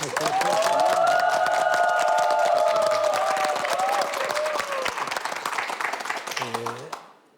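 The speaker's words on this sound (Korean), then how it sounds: "우리 김영석 교수님의 강의를 큰 박수로 청해 듣겠습니다" A studio audience on a Korean television show gives a big round of applause and cheers as a 99-year-old philosophy professor is introduced for his lecture. The clapping is dense and sustained, with voices rising over it, then it dies away.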